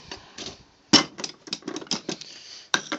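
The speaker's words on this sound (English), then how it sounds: "Let's see if I can get this drawer closed now." A toolbox drawer is pushed shut with a sharp metallic clack, then a jumble of rattling, tapping knocks from the metal drawer, and a final clank near the end.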